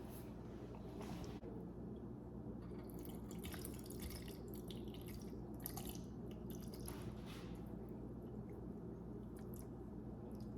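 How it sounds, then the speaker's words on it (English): Lime juice drains and drips off shrimp ceviche in a kitchen, giving close, wet dribbling and squishy splatter over a steady low background, with no talking. "I'm just draining this lime juice off"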